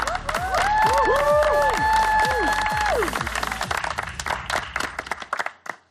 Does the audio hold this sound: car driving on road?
no